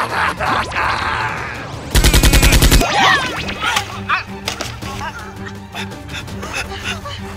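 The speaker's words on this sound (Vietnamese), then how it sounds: "Nổ súng!" Toy foam-dart blasters fire in a staged Nerf gun fight: a loud, rapid burst of mechanical shots lasting under a second, followed by scattered clatter and excited voices shouting in the background.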